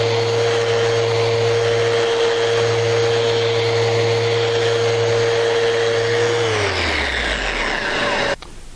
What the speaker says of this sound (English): this will not melt the surface because it's only spinning at 700 RPM, but still in the driven Rotex mode. So let's go ahead and buff this out.